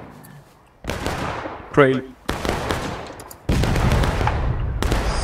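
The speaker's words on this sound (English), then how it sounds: "Who's that shooting in now?" Gunfire at a Civil War reenactment on Hagerstown Turnpike, heard from the artillery side: several loud, abrupt bursts of shots and rumbling blasts, with a brief spoken word between them.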